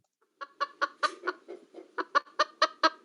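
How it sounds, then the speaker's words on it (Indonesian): A chicken clucks as a sound effect in a quick rhythmic series of about a dozen clear, close clucks against a silent background. "Ya, sound ayam."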